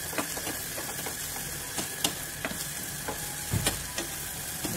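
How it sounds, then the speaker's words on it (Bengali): Chopped carrots with a pinch of turmeric fry in a pan, a steady close sizzle broken by irregular clicks and scrapes of a stirring spoon. "গাজর একটু শক্ত হয়, এগুলোকে আমরা একটু ভেজে নেবো।"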